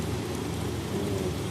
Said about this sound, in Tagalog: Tigil trabaho muna, umuulan oh.